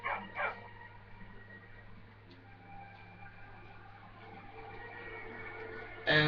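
A dog in the video game Skyrim barks in two short bursts near the start and once more at the end, over a steady low game ambience hum.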